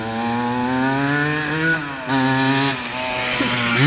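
A 1974 Yamaha MX100 two-stroke motorcycle engine revs loud and close while being ridden, a steady buzzing drone that dips briefly as the throttle eases, then climbs again.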